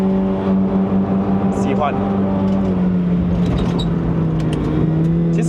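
A Honda City Hatchback 1.5L GN5 engine pulls steadily through the revs on a mountain run, a loud continuous drone rising and then settling in pitch, with a voice speaking over it.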